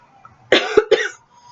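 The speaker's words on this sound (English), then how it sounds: "coughing, of course." A short burst of coughing, three quick harsh coughs close to the microphone in a quiet room.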